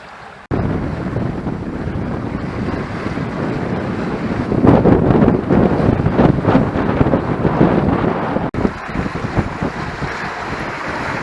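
Sailboat with reefed sails heeling and moving fast in strong wind on Lake Champlain, steady loud wind roar buffeting the microphone with water rushing along the hull, no speech.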